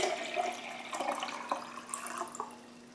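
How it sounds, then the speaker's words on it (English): Water runs and splashes into a fermenting vessel in a quiet, steady trickle with small irregular bursts, fairly close. "I'll go ahead and put some water in here"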